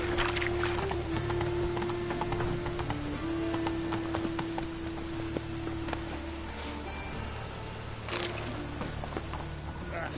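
Continuous rainfall in The Witcher 3: Wild Hunt patters evenly throughout, mixed with faint horse hoof clops and a sustained musical drone, no voices present.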